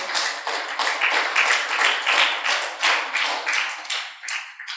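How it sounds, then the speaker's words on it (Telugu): A church congregation clapping loudly together, a dense rhythmic burst of many hands lasting several seconds and fading at the end. "గట్టిగా చప్పట్లు కొట్టి దేవుని నామమున మహిమపరచండి"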